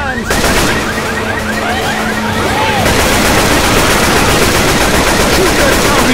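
Loud automatic gunfire from the zombie shooter game Left 4 Dead 2 rattles continuously and densely, layered over chaotic game noise, with voices talking underneath.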